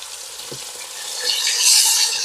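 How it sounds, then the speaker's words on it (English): Chicken pieces searing in a pot for Jamaican brown stew chicken, a close hiss that grows louder and brighter partway through, with a faint stirring touch early on. "we're gonna make them sear and get some color"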